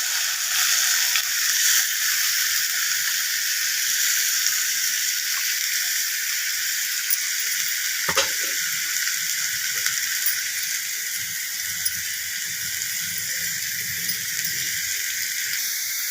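Mustard seeds sizzle and crackle in hot oil while vazhakkai varuval is being prepared, a steady bright hiss with scattered pops throughout and one sharper knock midway.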